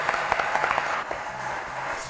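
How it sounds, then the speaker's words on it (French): A studio audience applauds the four guests on a French television show, a short burst of faint clapping that tapers into a low murmur. "applaudissements pour les 4 invités"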